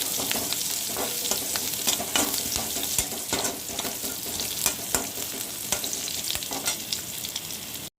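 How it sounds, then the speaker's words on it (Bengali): Green chillies fry in hot oil in a pan, a dense, continuous crackling sizzle with scattered sharp pops and spatula scrapes, close up and steady, cutting off abruptly at the end. "লঙ্কাটা ভাজা ভাজা হয়ে গেছে"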